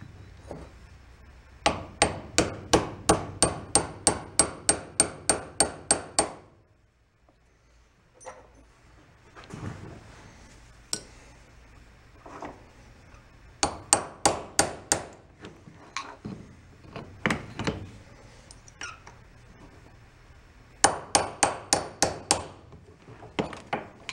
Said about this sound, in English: I'll lay it back down on the vise and I'll drive that back in again with a little bit of support